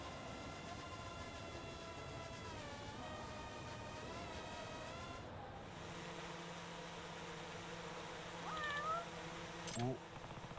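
A cat meows in the video game Judgment, with a few short cries close by near the end over a steady bed of game music and background tones.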